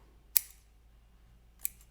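Two crisp scissor snips, well separated, as a blade trims synthetic thread ends on a handmade leather mask, each cut short, bright and close with quiet between.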